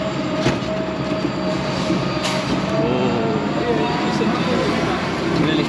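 A train rumbles steadily at Siliguri Junction railway station, with a constant broad roar, brief sharper clanks and a faint wheel squeal, while voices talk nearby.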